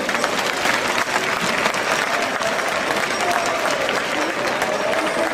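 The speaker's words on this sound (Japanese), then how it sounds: "10名の皆さんに大きな拍手お願いいたします。" Audience applause fills the hall at the final of a flower arranging competition, a dense, sustained clapping that holds steady throughout.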